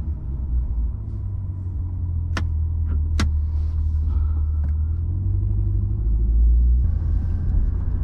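A 2020 Corvette C8 driven at night, its engine a steady low rumble from inside the cabin with road noise, rising slightly in intensity, plus a couple of sharp ticks and a faint click.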